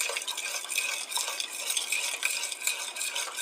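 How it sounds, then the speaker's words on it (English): A spoon stirs lentil peas and coconut milk in a pot, producing soft continuous scraping and wet swishing with light clinks, close and steady without voices. "Give it a good stir."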